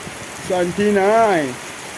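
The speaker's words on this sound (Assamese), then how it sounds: "আজি ইমান বৰষুণ পৰি আছে আমাৰ এইফালে" Heavy rain pours steadily in Cherrapunji as a constant close hiss, while a voice rises briefly over it in the middle.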